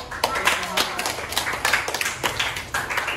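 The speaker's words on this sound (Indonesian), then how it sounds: "Oke, tepuk tangan dulu." A classroom of students claps hands together in a short burst of rhythmic, moderately loud clapping with voices mixed in.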